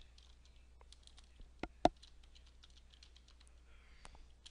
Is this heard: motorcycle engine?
no